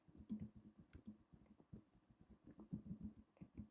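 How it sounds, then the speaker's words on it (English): Slow typing on a computer keyboard, a close, quiet run of uneven key clicks with brief pauses between bursts. "I'm very slow typing"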